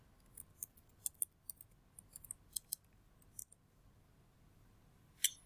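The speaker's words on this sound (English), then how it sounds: "you type in your password" A computer keyboard is used to type a password at a terminal, giving faint, sparse, irregular key clicks, about a dozen soft taps and then one sharper final press in a quiet room.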